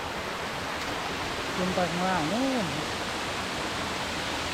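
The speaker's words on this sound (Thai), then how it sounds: "นีครับเสียงน้ำตก" Steady broadband roar of a waterfall at a temple in Pak Chong, Thailand, fills the whole clip, with someone speaking briefly over the rushing water.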